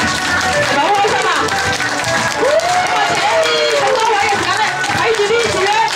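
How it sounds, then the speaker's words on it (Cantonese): Audience applause at a large product-use group meeting: dense, continuous clapping and crowd noise fill the room at high volume, mixed with cheering and a loud voice talking over it. "俾啲掌聲嚟，俾啲掌聲佢哋啊"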